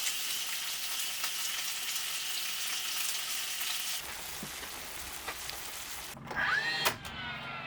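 Pork chops and fried onions sizzle in a pan with a steady broadband crackle that drops away partway through, followed by a brief tonal squeal and clatter near the end.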